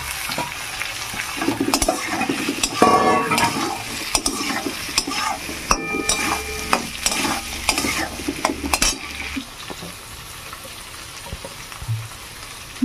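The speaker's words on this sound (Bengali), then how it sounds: "আলুগুলো এবার দিয়ে দেবো তেলে করে।" Long strips of potato frying in hot oil, a steady loud sizzle that swells as the pieces go in, with scraping stirs of a spatula and clinks against the pan throughout.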